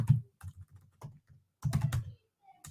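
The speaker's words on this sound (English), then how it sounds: "I'm typing too fast and I'm screwing up." Fast, uneven typing on a computer keyboard, with close, soft clicking keystrokes in quick clusters and short pauses, recorded quietly with no talking over it.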